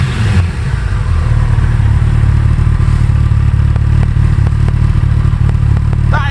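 A warmed-up Kawasaki ZZR1400 Performance Sport engine runs loud and close, a dense, steady rumble with a sharp blip near the start and a mechanical ticking clatter throughout.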